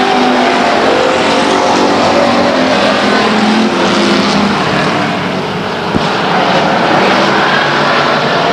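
Race cars roar down the backstretch at Stockton 99 Speedway in 1999, a loud, unbroken engine blare that stays dense and close throughout, with no talking.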